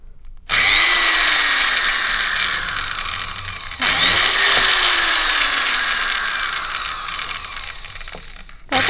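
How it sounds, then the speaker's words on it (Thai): A small electric drill bores holes into a coconut shell, two close, loud whining bursts of several seconds each with the bit grinding through the shell, separated by a short pause and alone without talk. "แล้วเราก็ใช้สว่านนะคะสว่านที่ใช้ก็ต้องเป็นสว่านที่ใช้เบอร์เล็กหน่อยนะคะ"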